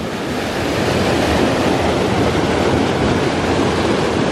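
Water rushes steadily into a deep narrowboat canal lock as it fills, a loud continuous roaring torrent with no pauses.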